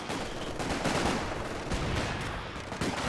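In Company of Heroes 2, a mortar shell lands amid a dense, continuous rumble of battlefield gunfire and explosions, with broad noisy bursts layered over one another and no clear gaps.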